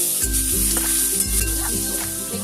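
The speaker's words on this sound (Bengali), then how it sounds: "সেই মশলাটা দিয়ে একটু ভেজে নেবো।" Ground spice paste frying in oil in a pan for a koi fish curry, a loud close sizzle with rhythmic stirring strokes, heard alone under a steady tonal background.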